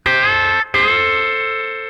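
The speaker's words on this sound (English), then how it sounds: "you're going to bend while you keep the other note stationary. Some people call this oblique bend." An electric guitar sustains two notes while one is bent upward, briefly cut off and restruck, then rings out steadily with a bright, slightly distorted tone.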